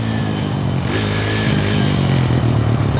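A kids' quad with a swapped-in motor idles and runs gently during break-in, a loud steady low engine rumble with a slight rise in the middle, close by and without talk.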